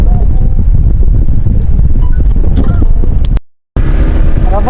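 Strong wind buffets the microphone at Abagatanen Beach in Agno, Pangasinan, a loud, constant low rumble that drops out briefly near the end before returning.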